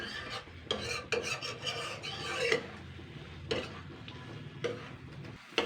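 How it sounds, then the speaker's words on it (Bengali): Lentil dal with turmeric and other ground spices being stirred and sautéed in a pan, giving repeated raspy scraping strokes over a soft sizzle, fairly close and moderately loud with no talking. "এবার আমি একটুখানি কষিয়ে নেবো"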